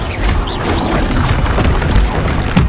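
Explosion from the Bombarda spell in Hogwarts Legacy: a loud, sustained, noisy roar of blast and rumble, with no talking.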